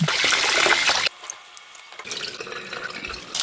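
Basmati rice is rinsed in water, with a loud rush of running, splashing water for about a second, then a quieter pause, then softer sloshing and dripping close by.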